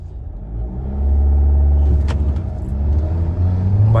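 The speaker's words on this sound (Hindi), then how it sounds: "भाई बहुत ज्यादा व्हील स्पिन मार रही है" Diesel automatic Mahindra Scorpio and XUV700 SUVs launch in a drag race, their engines swelling from a low idle rumble into a loud, deep roar as they accelerate away close by, with no talking.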